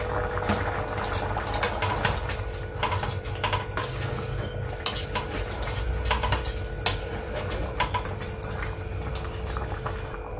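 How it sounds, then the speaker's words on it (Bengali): Moong dal, with jackfruit and drumstick, simmers and bubbles in a cooking pot under steady stirring, a continuous wet bubbling broken by frequent clinks and scrapes of a spoon against the pot. "এবার আমি ডালটা দিয়ে দিচ্ছি।"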